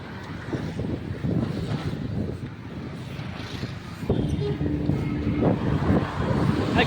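Strong wind buffets the microphone on a road during an endurance run near Neelankarai Link Road and OMR, a continuous loud rumbling gust with passing traffic noise beneath, rising louder after the midpoint.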